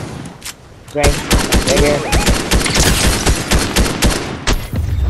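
Rapid gunfire in the Fortnite video game, a dense stream of close, loud shots rattling almost continuously for several seconds, with voices talking briefly over the shooting.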